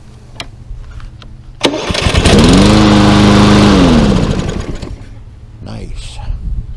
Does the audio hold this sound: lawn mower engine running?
yes